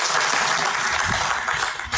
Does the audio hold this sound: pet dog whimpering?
no